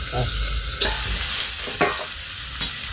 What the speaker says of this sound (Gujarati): થોડુંક જીરું વઘાર આ રીતે વઘારવાનું